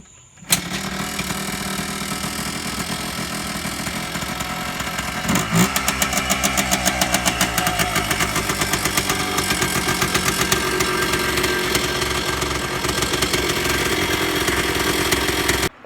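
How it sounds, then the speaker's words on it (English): A Yamaha Blaster quad's small engine cranks and catches, then settles into a steady, close idle with a fast, even pulse that carries on alone for the rest of the clip. "We're just going to start the quad up and see how bright the LED light is"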